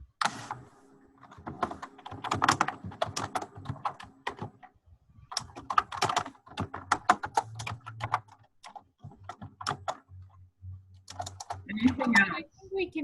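Rapid keystrokes on a computer keyboard clatter in irregular bursts during an online meeting, close and distinct, with short pauses and a low hum in the background.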